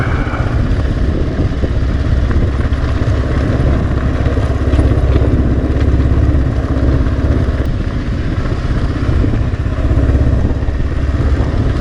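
A Kawasaki KLR 650 motorcycle crawls down a hill in first gear on a mountain highway, its engine a loud, steady, close rumble mixed with continuous wind and road noise throughout.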